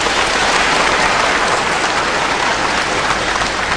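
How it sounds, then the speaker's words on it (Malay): A hall audience gives loud, dense, continuous applause for a third panelist, an associate professor, at a Malaysian public forum. The clapping holds at an even level throughout with no speech. "Kita berikan tepukan."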